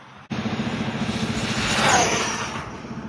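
An Arrma Big Rock 6S RC car on its stock motor at full throttle, with a sudden loud burst of roaring motor and road noise that climbs steadily with a pulsing rumble.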